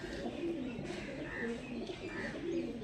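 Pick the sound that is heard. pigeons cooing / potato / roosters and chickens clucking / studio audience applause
pigeons cooing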